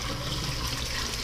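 Used liquid from cleaning parts during motorcycle top-end work poured off into a drain, a steady close rushing splash that holds for the whole moment.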